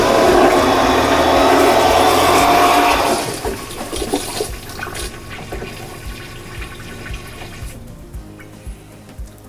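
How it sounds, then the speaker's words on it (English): Water rushes loudly into the bowl of an electric push-button boat toilet, then fades to a softer trickling and gurgling as the filling slows and tapers off. "the new feature is electric toilets, push button toilets"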